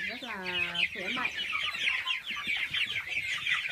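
A flock of 30-day-old farm chickens clucks and chirps continuously nearby, with a few louder rising calls near the start over a busy layered chatter.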